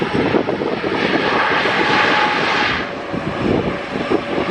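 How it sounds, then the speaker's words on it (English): A Wizz Air Airbus A321neo jet landing at Luton Airport on a summer evening, its engine roar loud, steady and broadband, swelling and then easing slightly with no voices over it. "final aircraft we're going to capture today, Wizz Air MSA 321 Neo. And what a landing that was"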